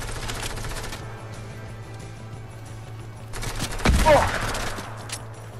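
Gunfire in a Fortnite match during Season 3 of Chapter 2, with sporadic shots and bursts under a low steady hum, rising to a louder burst of fire with impacts near the end.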